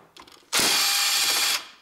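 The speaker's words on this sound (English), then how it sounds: "I need again 10 millimeter socket." A ratchet drives a 10 mm socket on the hybrid electric cable bolts of a 2002–2009 Toyota Prius 1.5 engine, giving one loud, close, continuous whirring burst of about a second after a few faint clicks.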